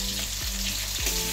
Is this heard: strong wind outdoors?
no